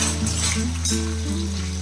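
Bitter gourd frying in hot oil over a medium flame gives a steady, close sizzle, with a low continuous hum beneath it throughout.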